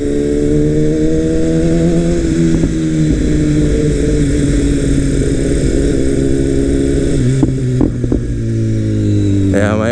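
2018 BMW S1000RR motorcycle with an Akrapovic exhaust running steadily, a loud close engine drone with strong harmonics, briefly shifting pitch near the end with a quick rev, while a voice speaks over it.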